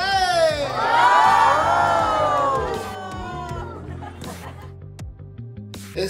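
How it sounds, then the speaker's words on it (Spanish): A crowd of children at a natural history museum in Mexico City cheers and screams for a dinosaur Rex presentation, loud whooping voices swelling then fading into scattered shouts and background chatter. "¡Un gran aplauso para el dinosaurio Rex!"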